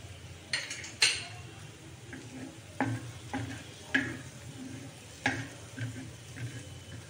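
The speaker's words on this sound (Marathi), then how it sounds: "आता टाकायचं आहे थोडासा कढीपत्ता, तो बरोबर तेलात तळला जाईल" Curry leaves and coriander sizzle in hot oil on an iron griddle, with a low steady fry broken by several sharp clinks and scrapes of a spoon against the pan.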